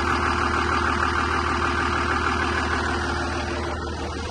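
The Cummins diesel engine of a Dodge Sweptline truck with a turbo giving no boost runs at a steady idle, a continuous low, even rumble close by with no voices.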